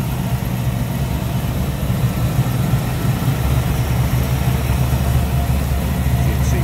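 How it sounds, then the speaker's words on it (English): A 1963 Chevrolet Impala SS with a 348 V8 built to 409 specs, Edelbrock intake, idles smoothly with a steady, deep low rumble, close and constant with no revving. "As you can see, very smooth running engine."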